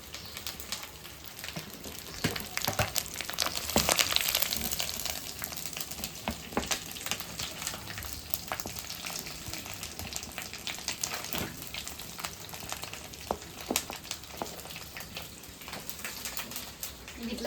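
Bommidi fish fry in oil with a steady, dense crackle and sizzle running throughout, fairly faint and close, with scattered sharper pops.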